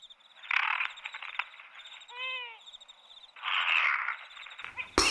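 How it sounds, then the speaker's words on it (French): An owl calls in a night soundscape, giving a short rising-and-falling hooting phrase amid frog croaks and insect chirps, with a sharp knock near the end. "Là, c'était un hibou."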